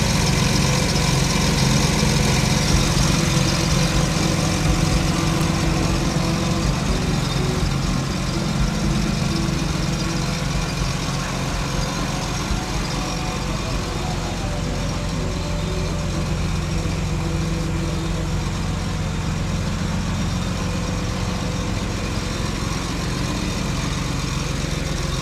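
A car engine idles steadily during an alternator voltage test with a digital voltmeter, a loud, even, low rumbling drone with a slight vibrating throb, continuous and close, with no talking.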